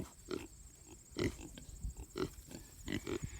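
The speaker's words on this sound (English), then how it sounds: "So these are the 4 pigs we have left." Kune Kune pigs on a farm give a series of close, low grunts and oinks, spaced in short rhythmic bursts roughly every second, with no voices over them.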